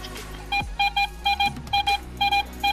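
Repeated short electronic beeps from a metal detector sweeping a beach for coins, arriving in a steady run of about nine evenly spaced tones, close and clear with a faint low rumble beneath.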